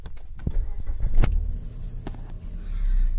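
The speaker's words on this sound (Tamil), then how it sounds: "அதுக்கு முன்னாடி காரை ஸ்டார்ட் பண்ணிக்கலாம்." A car is started for a beginner driving lesson: clicks and clunks of the ignition, then a short cranking burst before the engine settles into a low, steady idle that swells near the end, heard from inside the cabin.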